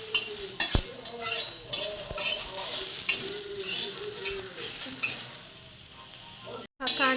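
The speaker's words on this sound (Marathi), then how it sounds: "ह्या कांद्यामध्ये पण आपल्याला थोडं तेल टाकायचं।" Onions fry in oil in a pan for a special egg recipe, a bright steady sizzle running throughout, with a spoon stirring and scraping now and then and a sharp knock early on, before a brief cut near the end.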